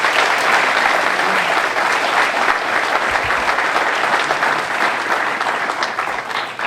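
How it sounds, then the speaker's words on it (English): Sustained applause from an audience at an annual classroom innovation grant awards program, dense steady clapping filling the room at full volume throughout, easing only slightly near the end. "we would like to ask for a big round of applause for all of those things"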